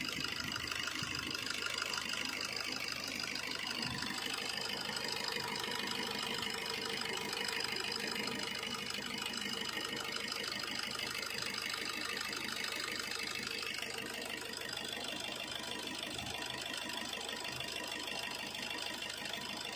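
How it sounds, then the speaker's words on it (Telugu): A car engine idling, a faint, steady mechanical hum that continues evenly for the whole stretch without change in pace. "అదేవిధంగా ఇంజిన్ నాయిస్ కూడా ఒకసారి అబ్జర్వ్ చేసుకోండి."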